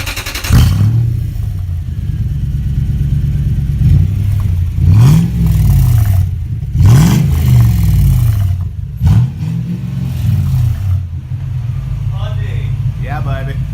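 A 2001 Toyota Tundra engine with the rear exhaust section removed revs hard several times, loud and close, each blip rising and falling in pitch over a steady idle rumble.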